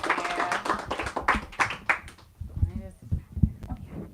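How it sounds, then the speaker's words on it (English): Scattered applause from a bookstore audience after a poetry reading, a few sharp claps ringing out for about two seconds before giving way to talk and low murmuring. "Let's give these two one last round of applause."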